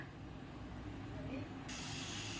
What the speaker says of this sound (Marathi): इथे बघा आता सुरसुर व्हायला लागलेलं आहे कुकरचा गॅस बंद करून देऊ